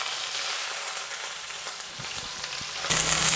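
Crushed shallots, ginger and garlic frying in a pan give a steady close hiss of sizzling oil, with faint soft stirring knocks and a sudden louder burst of sizzle near the end, no voices.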